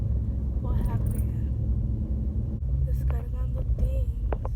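A big truck's engine rumbles low and steady from inside the cab while driving, a continuous moderate drone with a person talking over it at intervals.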